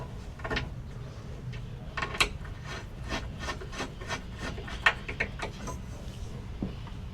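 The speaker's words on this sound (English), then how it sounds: "and then countersink on this side" Repeated short grinding rasps of a countersink bit cutting into wood, close and fairly quiet, in uneven bursts.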